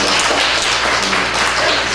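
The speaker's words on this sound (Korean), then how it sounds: "우리 산청교회 리모델링 봉헌 예배 큰 박수로 축하하겠습니다" A church congregation applauds loudly to celebrate the dedication service for a remodeled church building, a thick continuous wash of clapping that stays strong and even throughout.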